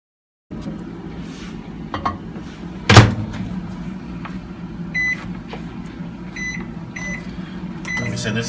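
A microwave oven runs with a steady low hum while warming an oxalic acid solution, with a sharp clunk near the start and repeated faint electronic beeps later on.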